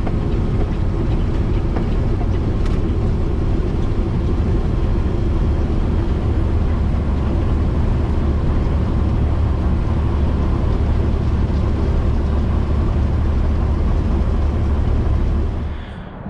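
Vans driving on a road at 3 a.m. on the way to New Jersey, heard as a loud, steady engine and tire drone that continues unbroken and drops away at the very end.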